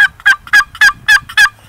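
Wooden two-sided box turkey call, made with two different woods and used for wild turkey hunting, played in a run of six sharp, raspy yelps at an even rhythm. It sounds close and loud with no talk over it.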